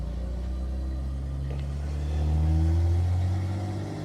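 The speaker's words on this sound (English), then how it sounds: "this does not feel like any normal Bentley engine. For a start, it is razor sharp, and it sounds very different." James Bond's Bentley, its engine revving up as the throttle opens, a low steady note climbing and swelling in loudness mid-way before settling, heard close and alone.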